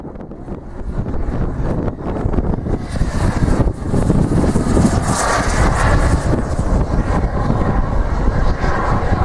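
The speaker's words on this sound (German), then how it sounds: "Die Flugzeuge wären in der Lage, auf ihren Abgasstrahl schweben zu können." Jet aircraft, able to hover on their exhaust thrust, fly at an air show in Porz in 2012, building into a continuous, rushing, wind-buffeted roar that stays loud and close for several seconds.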